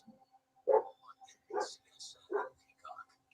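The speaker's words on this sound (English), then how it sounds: "is my dog loud?" A dog barks several times in short, separate yips and woofs, fairly close and spaced about a second apart, while a race broadcast plays faintly underneath.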